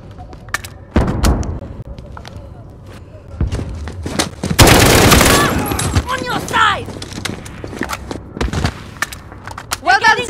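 Gunfire in the Call of Duty: Modern Warfare video game: loud close shots and a sustained burst, with thuds, scattered impacts and voices talking over the fight.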